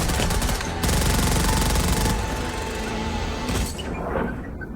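Rapid machine gun fire from a Westworld episode, a dense, continuous loud rattle of shots that drops and shifts in level partway through, with no talk.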